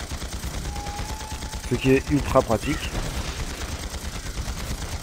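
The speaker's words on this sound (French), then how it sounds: "Je continue à tirer." Cannon fire from a tank in the online game Panzar, repeated rapid bursts of shots running steadily through the clip beneath someone speaking French, with a faint tone early on.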